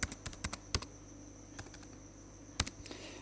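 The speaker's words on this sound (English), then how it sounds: "now I press the return key on my keyboard" Key clicks on a computer keyboard, a quick cluster of sharp taps followed by a pause and a single firmer press of the return key, with a couple of lighter clicks after, close and crisp in a quiet room.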